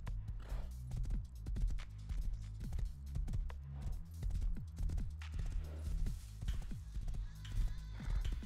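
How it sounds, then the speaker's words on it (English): A horse's hooves clop in a steady, rhythmic trot in the game Rust, each hoofbeat close and distinct over a low, even background. "Oh, horsey."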